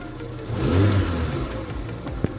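A car engine fitted with a second-generation LPG conversion revs up as the pedal is pressed, a mid-pitched surge that peaks briefly and then settles to a steadier hum.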